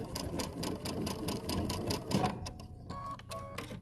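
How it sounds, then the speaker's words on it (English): Sewing machine stitching quilt pieces for a double wedding ring quilt, a rapid close rhythmic needle chatter that runs steadily and then slows into a few separate stitches at the end. "And then you sew off the end."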